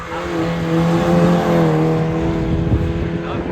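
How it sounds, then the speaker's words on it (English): A Mazda MX-5 race car drives past spectators at a hillclimb, its engine note rising and falling as it goes by, loud and fairly close, with a voice speaking over the passing car. "Alex Hall's just gone by us in the MX-5"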